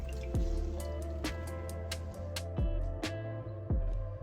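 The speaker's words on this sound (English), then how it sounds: "while it's coming up to a simmer, we're gonna add us some cornstarch slurries" Cornstarch slurry is poured into orange sauce as it comes up to a simmer, making a few wet drips and splats over steady bubbling, with no talk.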